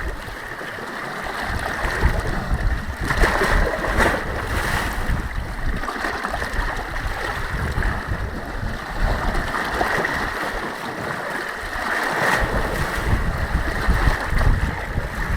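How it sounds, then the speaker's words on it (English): Waves of the Adriatic Sea lap and wash against the rocky Albanian coast in a steady, close rushing surge, mixed with wind and faint boat noise and no talking. "you can listen to the Adriatic Sea as it bounces off the Albanian coast"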